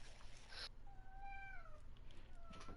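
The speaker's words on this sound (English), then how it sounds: "Do you hear this fucking cat?" A cat meows twice in quick succession, a faint upward-gliding cry, at low level against quiet room noise.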